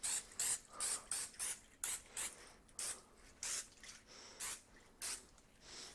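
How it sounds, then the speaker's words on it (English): Short hissing bursts of cooking spray coat a baking pan for cinnamon rolls, about a dozen quick squirts in an irregular rhythm, close and fairly soft with no talking. "So, got everybody's favorite cooking spray, back at it again."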